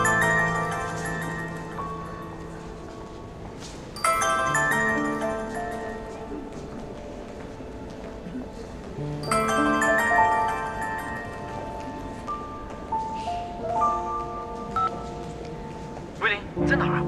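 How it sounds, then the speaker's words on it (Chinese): A mobile phone rings with a repeating tonal ringtone melody that restarts in several bursts over a long stretch, fairly loud and close, with voices present. "小姐，你的电话一直在响。"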